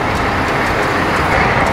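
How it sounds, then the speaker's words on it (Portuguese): A bus on the street below a hotel balcony in Portimão, Algarve, gives off a steady, broadband traffic rumble and hiss with no distinct events, heard from above as continuous road noise. "Tirando o ônibus que está fazendo barulho aqui embaixo"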